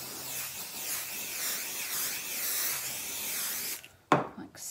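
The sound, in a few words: spraying adhesive onto foam for a fabric bag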